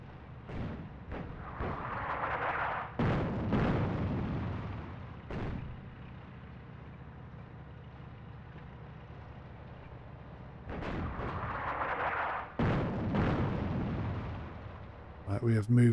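Panzer tanks and artillery pounding away in the North Africa strategy game Attack at Dawn, with heavy booming blasts in clusters and a continuous rumbling battle bed between them, loud and dense.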